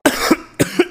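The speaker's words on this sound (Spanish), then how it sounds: "Mira cómo estás de la tos" Two bursts of coughing, each a pair of harsh hacks, close and fairly loud with a short pause between them.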